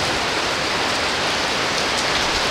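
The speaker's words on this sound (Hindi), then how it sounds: "अच्छी तेज बारिश है" Heavy rain pours steadily outside a high-rise building, a dense, loud, continuous hiss with no talking.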